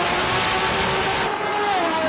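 A car cruising on a public road, a steady broadband engine and road roar holding at a constant level for about two seconds, close and continuous with no talk over it.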